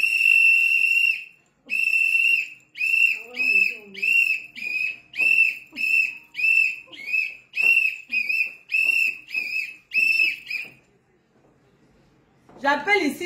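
A whistle is blown in a long opening blast, then about a dozen sharp, evenly spaced shrill blasts, loud and close, at a rally where a voice shouts in French, with a brief pause near the end before more noise.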